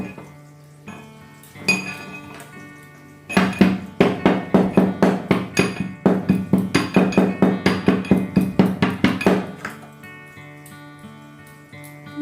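Spices are pounded into a paste in a small mortar while cooking a bottle gourd and prawn dish: a quick run of about twenty sharp, evenly spaced strikes, close and clear, with a few scattered knocks before and after.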